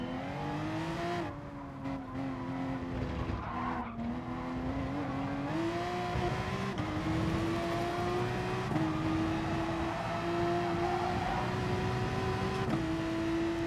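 A Porsche race car's engine drones steadily in GT Sport, its pitch climbing and stepping up through gear changes, with the hum of other racing cars and a faint tire squeal around it, and no talk.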